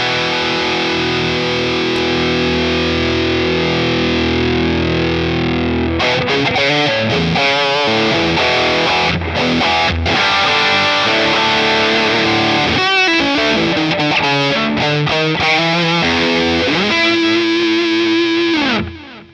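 An electric guitar runs through a Danelectro Cool Cat distortion pedal with level boosted, a long sustained distorted chord giving way to loud, continuous riffing and strummed passages that end on a held note.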